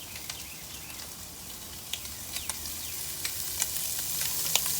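Small pieces of Spam browning in a pan in an outdoor kitchen, a close, steady sizzle with scattered sharp pops and spits that grows slightly louder toward the end.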